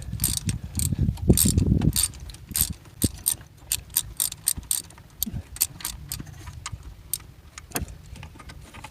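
A 1/4 inch drive ratchet tightens bolts on the thermostat of a 2016 Chevrolet Cruze, giving rapid ratcheting clicks in short bursts with a few heavier knocks and metal clanks, close up and without talk.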